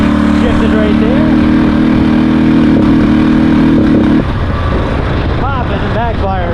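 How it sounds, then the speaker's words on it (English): A Honda Rincon ATV engine runs close and loud while shifting. A steady droning tone drops off partway through as the gear changes, and scattered pops and sputters follow. "Popping and backfiring, but it is shifting."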